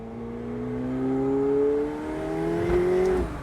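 A McLaren 750S supercar accelerates from inside the cabin, its engine note climbing smoothly and loudly over a few seconds before a brief shift-like break and a renewed rise.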